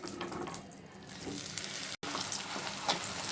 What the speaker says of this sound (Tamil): நெய்யில் நல்லா வேக விடணும்